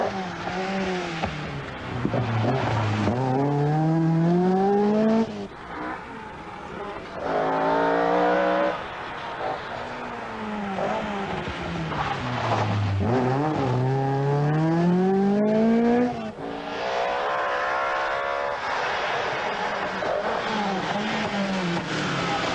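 Opel Manta rally cars at the 1985 Circuit of Ireland Rally, engines rising and falling in pitch through repeated loud revving runs, close and continuous with brief lulls between passes.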